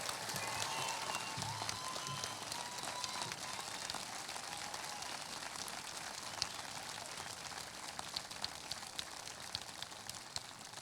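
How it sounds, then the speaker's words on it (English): Sustained applause from a large graduation audience at a high school ceremony, honouring new enlistees into the United States military, a steady dense wash of clapping with scattered louder claps, continuous throughout. "Ladies and gentlemen, a round of applause for these newest enlistees into the United States military service"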